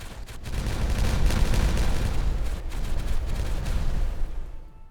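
TNT detonation in the Timberborn video game, a dense, continuous rumble of booming blasts that holds at full loudness for several seconds before abruptly cutting off.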